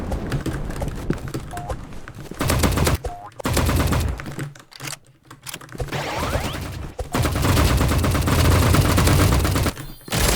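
Rapid bursts of video game gunfire from a golden AK-47 crackle in dense, loud volleys, broken by brief pauses before the automatic shooting resumes.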